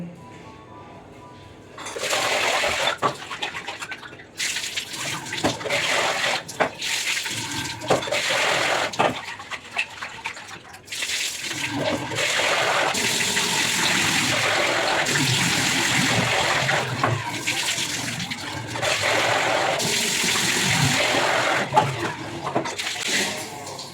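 Rice being washed under a running tap: water gushes and splashes steadily, with intermittent bursts of rinsing and stirring before settling into a continuous pour.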